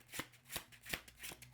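A slippery gold foil tarot deck is shuffled quietly, with repeated crisp riffling bursts at a steady rhythm and the cards sliding against one another, close and soft, with no speech.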